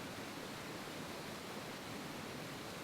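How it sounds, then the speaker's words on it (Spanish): Flowing water in a nature setting makes a dense, even hiss like a waterfall or rushing stream, steady and unbroken throughout, fairly soft and with no voices over it. "a través del sonido del agua"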